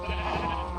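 A single Minecraft sheep bleat, a nasal wavering baa heard close and clear, lasting under a second with nothing else around it.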